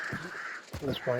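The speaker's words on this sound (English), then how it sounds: "I'm not really worried about the crows" Crows cawing in the video game Hunt: Showdown, a couple of harsh caws rising over a steady ambient drone while someone talks over them.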